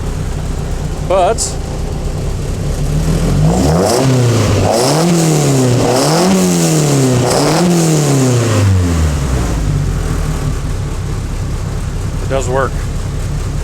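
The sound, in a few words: 2.5 Duratec engine running in Locost 7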